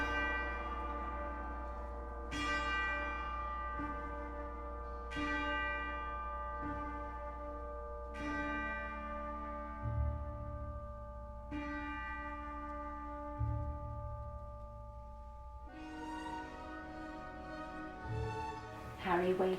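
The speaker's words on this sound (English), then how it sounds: "the beautiful sound of bells filled the air" Bells ring out in a steady series of bright, resonant strikes, each note sustaining and overlapping the next, with a fuller clustered peal near the end; clear and prominent, no voices.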